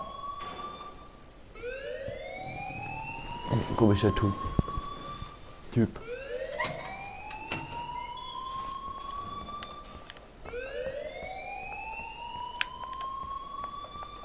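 An alarm in the video game Life is Strange wails in rising, repeating siren sweeps, loud and continuous, with thuds and brief speech mixed in.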